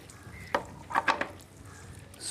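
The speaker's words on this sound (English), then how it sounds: "Stir all that together." A utensil scrapes and knocks against a pan while green masala and coconut are stirred together, a few sharp clacks in a short cluster over a faint background hiss.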